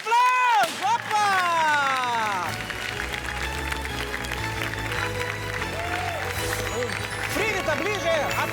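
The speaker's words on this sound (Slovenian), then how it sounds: "En velik aplavz!" Crowd applause and cheering for the winner of a school cooking-competition team final, loud and sustained, mixed with voices and a host's excited shouting over it.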